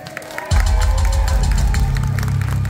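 After a brief quiet moment, a club audience at a show at Quantic bursts into loud applause and cheering for the band, with dense clapping and whoops that carry on steadily.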